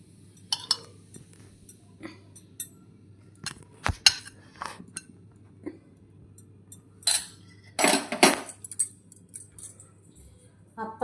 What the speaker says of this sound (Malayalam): ഗോഡ്ബീൻ കുട്ടന് ചോറിടുകയാണ്